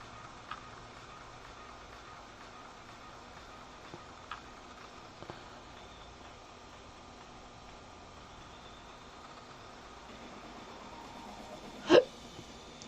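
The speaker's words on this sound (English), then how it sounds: "Hiccups!" A single sharp hiccup bursts out near the end of a mostly quiet stretch during a zebra face-paint makeup session, and a few faint clicks and taps come earlier.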